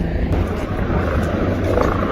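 A helicopter flying near Kedarnath in the Himalayan mountains gives a steady, low, rumbling drone throughout the brief stretch, with a faint voice in the background.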